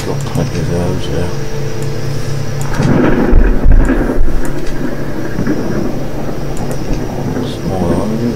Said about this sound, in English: Oh, a bloody thunderstorm.